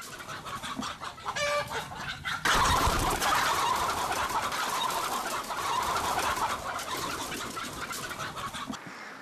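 Chickens cluck and squawk in a busy flock, with a sudden burst of louder flapping and agitated cackling nearby, continuing steadily with no voices.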